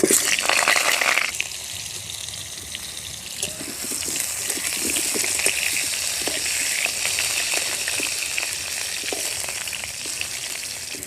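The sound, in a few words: potatoes frying in mustard oil in a wok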